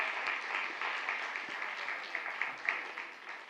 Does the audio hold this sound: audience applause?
yes